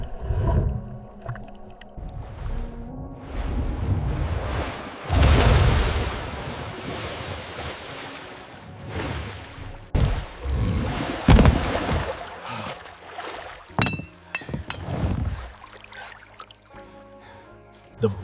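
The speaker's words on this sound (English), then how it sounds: "Muffled, distorted underwater rumbling and the creak of the wooden boat from below." Muffled, distorted underwater rumbling rolls in uneven surges from beneath a wooden boat, joined by low creaks and groans, with quieter gaps between the louder swells.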